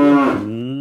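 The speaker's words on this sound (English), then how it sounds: "I hear the cow sound now." A cow gives one short, loud, close moo that starts strong, dips in pitch and fades out in under a second.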